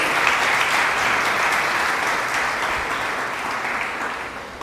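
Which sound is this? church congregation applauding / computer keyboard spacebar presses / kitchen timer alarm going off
church congregation applauding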